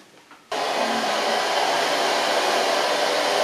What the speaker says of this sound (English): Blow dry it all to the center, just lifting it up, don't force anything.